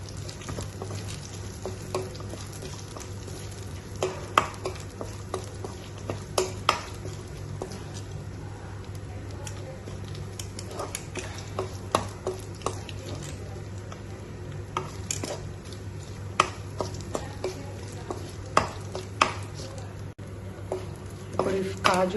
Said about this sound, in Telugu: కొంచెం లైట్గా రోస్ట్ అవ్వాలి కాజు